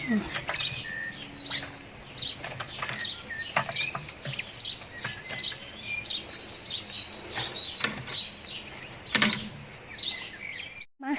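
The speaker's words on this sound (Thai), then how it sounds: "ฟัง เสียงนกร้อง" Many small birds chirp and call outdoors, with short bright tweets scattered steadily over a soft background hum.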